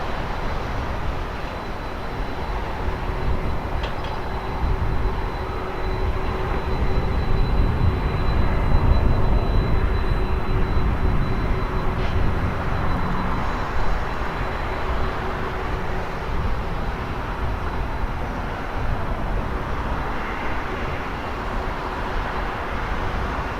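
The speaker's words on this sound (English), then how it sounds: "And here's our Kalita 767 finally." A Kalitta Air Boeing 767 at Portland airport gives a steady, broad jet roar that swells in the middle and then holds at a constant level, with no voices.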